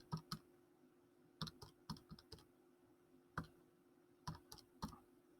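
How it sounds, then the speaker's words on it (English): Keys are pressed on a calculator in quick irregular bursts of sharp plastic clicks, close and quiet, with short pauses between clusters and no talking. "Typing that in my calculator."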